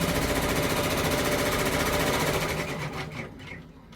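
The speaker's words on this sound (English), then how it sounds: "So I'm going to go ahead and start it again to let it do the placement stitch for the purple." A multi-needle embroidery machine running a placement stitch gives a fast, steady mechanical chatter that runs loud and even, then slows and thins out toward the end as it stops.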